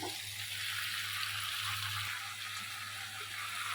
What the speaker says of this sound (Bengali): এখন ঢাকনাটা উঠিয়ে একটু ভালোভাবে নাড়াচাড়া করে দিব।